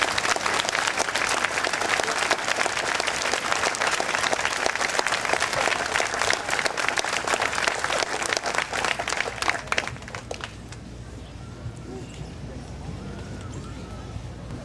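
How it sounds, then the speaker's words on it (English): Loud, sustained crowd applause at a Salute to Freedom ceremony honoring soldiers and their families, thick continuous clapping for about ten seconds before it drops off to a quieter room tone. "Let's give all of those soldiers and their families a round of applause."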